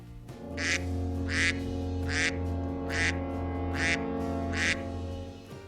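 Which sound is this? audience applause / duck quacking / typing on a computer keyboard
duck quacking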